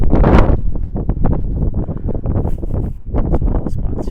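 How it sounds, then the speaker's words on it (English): Strong wind gusts batter the microphone at a dispersed desert campsite on BLM land along Antelope Creek Road, with loud, uneven rumbling bursts that rise and fall throughout. "But it's really windy."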